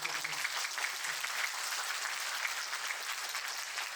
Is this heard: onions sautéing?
no